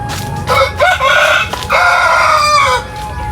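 A rooster crows loudly and close by in two long, strained calls that rise and hold, with chickens clucking around it in a farmyard.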